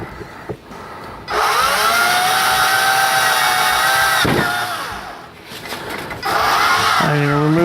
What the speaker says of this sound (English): Keeping the drill as straight as possible. Right through out the other side.